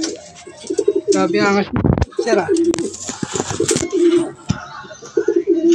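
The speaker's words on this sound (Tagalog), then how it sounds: "Lupit ng ibon, no?" Pigeons cooing in a loft, soft low coos weaving beneath loud, close conversation that carries through most of the moment.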